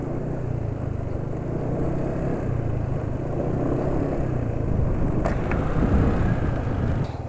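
A motorcycle engine on Unoco 4T SAE 40 oil idles with a steady, rough, uneven rumble, close and loud, with no voices.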